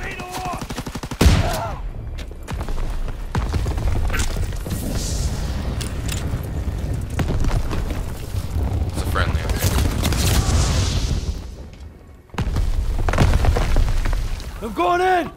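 Gunfire in Call of Duty WW2 during the D-Day campaign, with dense bursts of rapid shots, booms and explosions crowding together nearly throughout, loud and close, and someone speaking over the battle.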